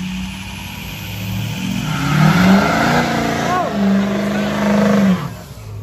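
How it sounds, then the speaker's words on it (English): A female-built Alumiduty truck on a custom 12-inch lift kit does burnouts at a meet, its engine revving and surging loudly in bursts while people talk nearby. "All right, started the burnouts."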